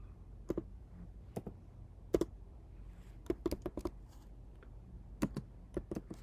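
Scattered keystrokes on a computer keyboard, bursts of quick clicks separated by short pauses, close and fairly quiet with no talking.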